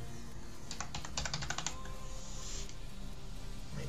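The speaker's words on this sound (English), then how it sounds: "Let's go ahead and type in" Quick bursts of keystrokes on a computer keyboard, a fast cluster of clicks near the start, then a short pause and a few lighter taps, close and fairly quiet.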